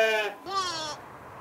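Jacob's sheep bleating, two close, loud bleats in quick succession, the second rising and wavering, then quiet.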